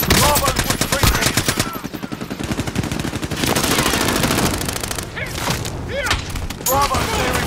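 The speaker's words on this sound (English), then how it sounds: "Under hostile fire!" Rapid bursts of automatic gunfire and heavy shots in a military shooter game, dense and loud, with explosions mixed in and no clear pauses.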